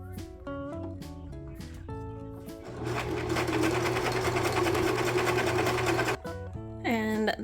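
A sewing machine stitches a skirt onto a doubled waist cord, a loud steady mechanical whirr and clatter lasting a few seconds. Music-like tones are heard before it starts and again after it stops.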